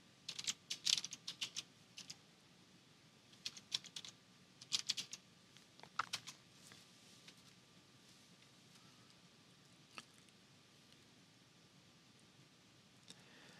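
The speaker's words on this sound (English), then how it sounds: "we're going to type in personalization with a capital P" Typing on a computer keyboard, quiet clusters of quick key clicks in short bursts, then a few isolated single taps spread apart against a soft background hiss.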